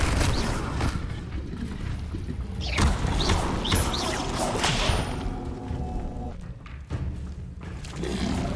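Fire and levitation spell effects from Hogwarts Legacy, with whooshing casts, swishes and dull thumps over a busy combat background of rumbling noise.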